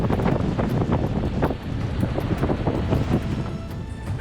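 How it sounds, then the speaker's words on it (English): Strong wind roars and buffets a sailboat at sea as a cold front brings a storm, with a constant loud rush, gusty swells and rough water beneath, and no voices. "We knew there was gonna be a cold front coming back, and yeah, now we got some wind."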